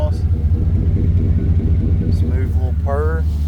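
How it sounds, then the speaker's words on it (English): A Chevy 2500 LT two-wheel-drive pickup idles near its exhaust with a steady low rumble, while someone talks briefly over it near the end. "Kind of hear it down here by the exhaust."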